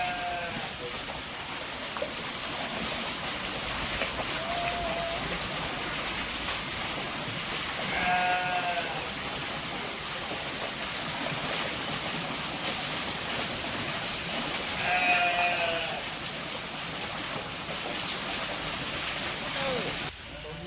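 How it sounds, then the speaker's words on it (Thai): Sheep at a farm park bleat loudly a few times over a steady outdoor background wash, with people talking nearby. "เป็นแกะนะเทียบเลยดูสิ มันร้อง มันร้องดังมากเลย"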